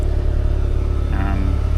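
Turbocharged Mazda RX-8 rotary engine idling on 53% ethanol flex fuel, a steady, close low rumble with a slight rise in pitch near the end.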